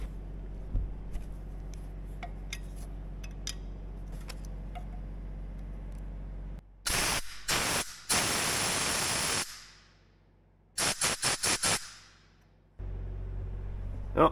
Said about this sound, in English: take the return line off up here and just blow that out with the air compressor